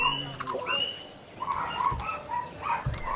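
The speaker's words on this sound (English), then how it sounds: "Sorry about the dogs." Dogs barking intermittently in the background of a tabletop role-playing session, several short, mid-distance yips and barks scattered over a few seconds.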